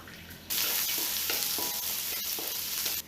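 Onions sautéing in hot oil for chicken biryani burst into a loud, steady sizzle that cuts in suddenly, with stirring scrapes on top, then stops abruptly near the end.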